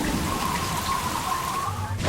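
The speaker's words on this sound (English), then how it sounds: "A heavy rain soaks a small airport in Dubrovnik," Heavy rain pours down steadily over a small airport in Dubrovnik, Croatia, a loud continuous hiss with a faint tonal whine running through it and no talking.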